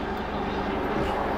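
A helicopter coming in to land right overhead makes a loud, steady roar with a low throbbing rumble beneath it, close and continuous throughout.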